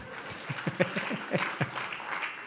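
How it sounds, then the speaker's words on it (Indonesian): Applause from a church audience after a joke by Pak Endang, short and moderately loud, with a few sharper claps standing out near the start. "Tepuk tangan buat Pak Endang"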